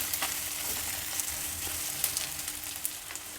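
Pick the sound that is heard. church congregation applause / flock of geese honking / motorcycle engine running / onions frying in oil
onions frying in oil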